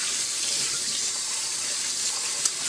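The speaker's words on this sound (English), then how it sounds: "Let's rinse and drain the rice with cold water using a fine" Cold water running steadily through a fine mesh strainer while rice is rinsed, a constant hissing splash at close range with no talk.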